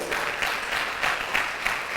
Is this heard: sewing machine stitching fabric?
no